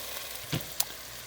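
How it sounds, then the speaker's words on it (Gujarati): Spices tempering in hot oil for dal, a steady close hiss with a couple of brief pops and crackles. "દાળ માટેનો જો વઘાર કર્યો મેં છે ને, ખાસું બધું નાખીને વઘાર કર્યો"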